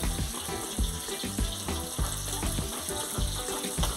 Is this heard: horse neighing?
no